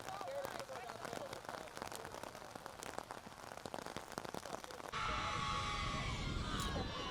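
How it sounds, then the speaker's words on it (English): Steady rain falls on an outdoor softball field, a dense continuous patter with scattered louder drops, then a steadier hiss takes over partway through. "It is raining pretty steadily now."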